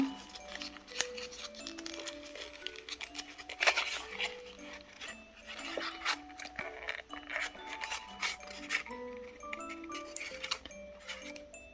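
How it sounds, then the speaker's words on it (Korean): Colored paper being creased and folded into an origami wine glass, with close, steady rubbing and crinkling rasps and soft scraping strokes, over a faint background tone. "접었던 선을 다시 접으면서 천천히 모아주세요."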